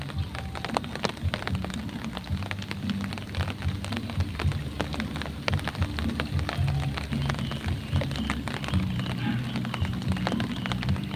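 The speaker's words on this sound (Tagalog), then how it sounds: "Pero ngayon po umuulan pa rin po hanggang ngayon" Steady heavy rain during Typhoon Egay falls in a dense, continuous patter with scattered close drips and taps, loud and unbroken throughout, with no voices.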